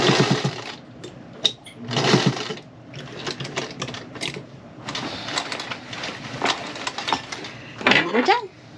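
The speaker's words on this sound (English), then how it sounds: "now I'm just going to sew it around the three sides right here on the dress" A sewing machine stitches a pocket onto a girl's peasant dress in bursts of rapid mechanical whirring, with pauses, handling clatter and a brief rising whine near the end.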